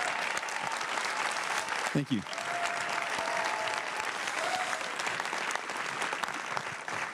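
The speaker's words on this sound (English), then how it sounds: "Let's give them a collective round of applause" A crowd at a political party leadership event applauds the campaign teams, a broad, steady wash of clapping at moderate distance, with a brief spoken thanks partway through.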